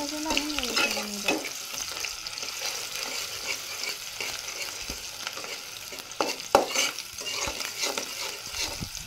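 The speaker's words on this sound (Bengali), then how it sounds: "তেলগুলো গরম হয়ে আসলে সেখানে আমি 2-3টার মতো পেঁয়াজ কুচি দিয়ে দিব। এবার ব্রাউন কালার না আসা পর্যন্ত আমি নেড়ে চেড়ে নিব।" Chopped onions fry in hot oil for a Bengali prawn and sour-leaf dish, a steady close sizzle broken by scraping stirs and a couple of sharp spatula knocks against the pan; no voices.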